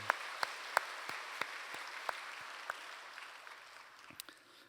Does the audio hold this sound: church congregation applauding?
yes